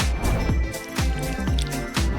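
Water drips in the Sprunki Paper Universe video game, sounding as a string of bright, squishy drops that fall at a steady, close rhythm, each one landing with a sliding plip over a busy backing of game music.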